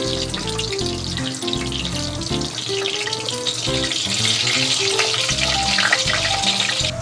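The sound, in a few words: hotdogs frying in a pan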